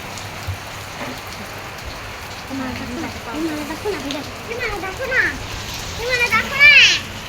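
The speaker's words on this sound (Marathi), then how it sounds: "बघा पाऊस चालू आहे बघा असं वातावरण आहे पावसाचं" Steady monsoon rain in Mumbai patters down on a surface, with children's voices chattering and calling out over it.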